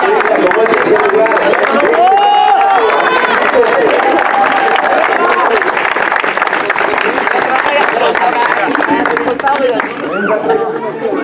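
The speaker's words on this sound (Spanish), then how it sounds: "Aplausos por favor para el conjunto de Palermo en el momento en el que reciben el trofeo" An audience applauds and cheers as the Palermo team receives its third-place trophy at a five-a-side football final. Steady clapping and crowd chatter run throughout the clip, with voices mixed in.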